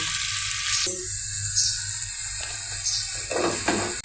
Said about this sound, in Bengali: মাছের জন্য মশলা কষিয়ে নিচ্ছি